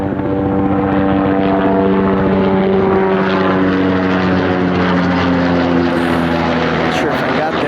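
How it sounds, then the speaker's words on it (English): A helicopter passes overhead above a Rochester, NY expressway construction zone, heard from a Harley motorcycle as a loud, steady, droning rotor hum that fills the whole stretch. "we got a helicopter here."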